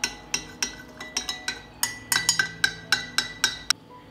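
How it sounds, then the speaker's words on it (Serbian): A metal spoon clinks repeatedly against the side of a glass container, sharp regular taps as it stirs salt into a litre of cold water, with no talking. "Sada ću 1 litar hladne vode dodati 1 stupenu kašiku soli i promešati."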